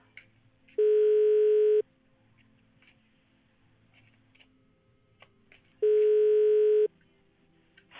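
A telephone ringback or busy tone, two long steady beeps about a second each with several seconds of near silence between them, clear and prominent against faint background noise.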